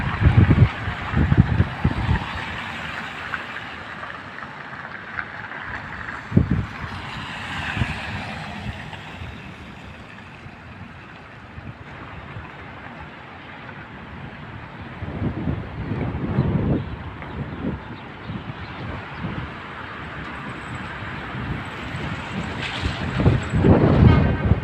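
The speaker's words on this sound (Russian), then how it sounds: "Погода вообще, ой, ветер, ой-ой-ой-ой-ой, очень сильнейший." Strong winter wind in snowy Orenburg buffets the microphone in heavy low gusts, surging loud at the start and again near the end, with a quieter stretch in the middle and no talking.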